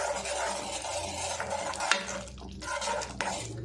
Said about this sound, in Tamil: சால்ட்டு சேர்த்துட்டு இதை கலந்து விட்டுருவோம்.